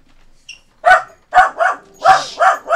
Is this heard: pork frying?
no